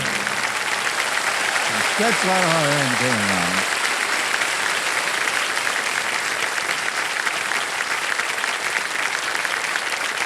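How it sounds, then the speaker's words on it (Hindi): Studio audience applause on the quiz show KBC Season 17 runs as a loud, dense, unbroken wash of clapping. A voice speaks briefly over it near the start, then the clapping carries on alone. "ताली बजती रहे"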